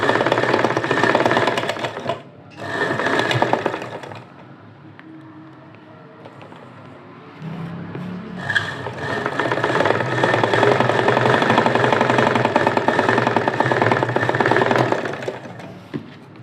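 A sewing machine stitches a blouse sleeve in straight runs, its fast whirring hum loud and close, stopping briefly for a pause with quieter handling before starting again and running steadily.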